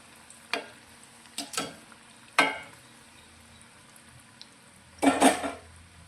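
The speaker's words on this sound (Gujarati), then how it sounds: "તો તમે જોઈ શકો છો આ રીતે જે તળાવા લાગ્યા છે" Potato fritters (gota) frying in oil over a medium gas flame. A soft sizzle runs underneath a few sharp, separate clatters of stirring at irregular intervals, heard close by.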